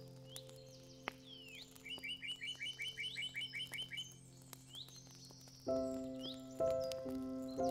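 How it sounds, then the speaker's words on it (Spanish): A small bird chirps a rapid series of short, high tweets, with scattered calls around it over a quiet hum, then a louder droning tone joins. "Se acerca un pequeño pájaro junto a ti"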